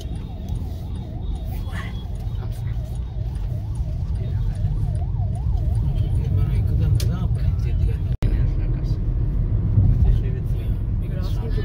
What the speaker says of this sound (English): Nobody is giving way to ambulance.